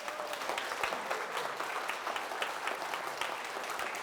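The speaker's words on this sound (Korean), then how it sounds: "CBS한테 박수 한번 보내줘야지." A steady burst of audience applause, many hands clapping together densely and evenly for a few seconds at a church prayer gathering, with no voices over it.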